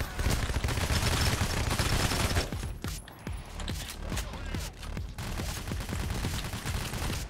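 Dense gunfire from the video game PayDay during a diamond heist: rapid automatic LMG bursts and shotgun blasts rattle almost without pause, loud and close, with a brief lull midway before the shooting resumes.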